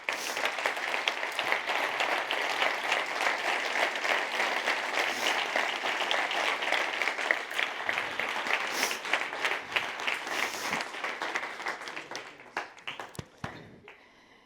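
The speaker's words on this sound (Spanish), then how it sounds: "Eduardo, un aplauso." A seated audience applauds at a science award ceremony, a thick, even roar of many hands clapping that holds steady for about ten seconds, then thins into scattered individual claps and fades out.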